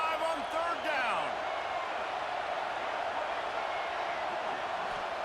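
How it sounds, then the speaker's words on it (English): A stadium crowd in EA Sports College Football 26 gives a sustained roar on third down. It is a dense, steady wash of cheering under brief commentary at the start. "The Buckeye crowd alive on 3rd down."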